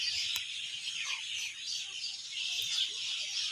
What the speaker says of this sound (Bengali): দেখো অনেক পাখির আওয়াজ শুনতে পারছে না খুব